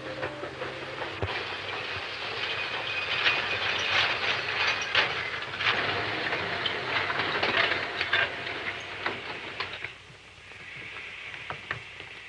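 A train in a 1939 Western film rumbles along the rails with steady clattering and hissing, loud and close for most of the time before quieting down near the end.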